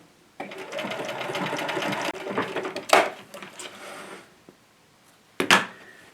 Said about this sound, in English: the number 14 stitch, which is just an over edge on the Bernina